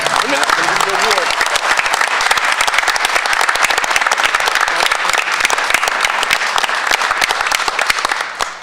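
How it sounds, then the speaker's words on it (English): A school board meeting audience breaks into loud, sustained applause, a dense close crowd of clapping hands filling the room steadily for over eight seconds before tapering off at the end. "let's give a big round of applause for Ariana this evening"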